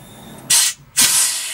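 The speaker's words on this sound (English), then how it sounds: "You can really hear the air going." Air hisses from the pneumatic brakes of a Spitfire, two loud close bursts of airy hiss separated by a short gap, with the second burst lasting longer.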